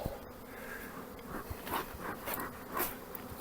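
Honey bees buzzing during hive swarming, a continuous droning hum with a few louder passes of individual bees close by.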